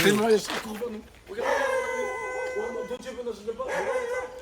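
A dog gives drawn-out, howling barks and yips, tonal and wavering, mixed with people talking nearby.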